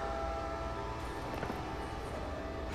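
A train in the Batman Telltale video game sounds as a faint, steady mechanical rumble with a sustained horn-like tone running through the short stretch, with no talk over it.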